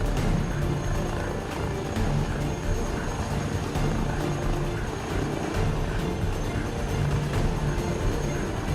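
An Airbus H160 helicopter in a flight simulator drones steadily with a dense, continuous rotor and turbine roar, loud and unbroken throughout with no talking.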